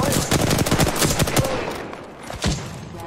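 Rapid automatic gunfire from an Apex Legends firefight, dense bursts of cracking shots for the first second and a half, then thinning to a few scattered louder reports, loud and close.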